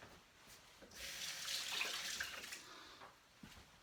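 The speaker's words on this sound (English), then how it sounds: "Just need to rinse my hands." Tap water runs steadily for a few seconds in a home kitchen while hands are rinsed beneath it, a close, hissing splash that starts abruptly and cuts off near the end.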